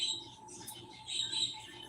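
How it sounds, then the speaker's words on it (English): Pet birds chirp and tweet quietly indoors in a home. The high, scattered calls repeat irregularly over a low background hum, and nobody speaks. "That's my birds."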